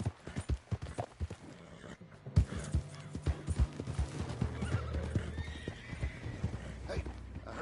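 A horse in Red Dead Redemption 2 clip-clopping with irregular hoof beats, then letting out a clear neigh partway through before the hooves continue, close and fairly quiet.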